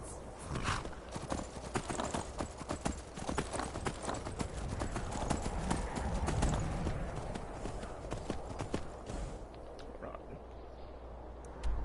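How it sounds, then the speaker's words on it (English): Horse hooves clip-clop in a steady, brisk rhythm along a path in Skyrim, with an occasional whinny and faint game ambience, a voice talking briefly over it. "looks like I'm about to get a free horse."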